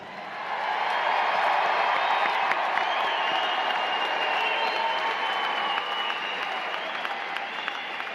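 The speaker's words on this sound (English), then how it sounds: "give yourself a round of applause" Loud, sustained applause from a large crowd of graduates at a university commencement, with scattered cheers and whoops rising above the clapping.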